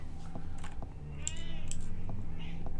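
Cat meowing in the Dark Shadows video game: a couple of faint, wavering meows over a steady low rumble, with scattered small clicks and taps around them.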